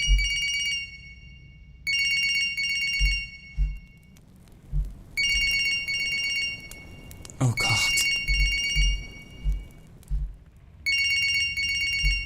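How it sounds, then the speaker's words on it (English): An electronic telephone repeatedly rings in the horror video game Siren Head, loud bursts with short gaps between them, while a man briefly reacts aloud over a brief crash in the middle. "Oh, that's actually a phone."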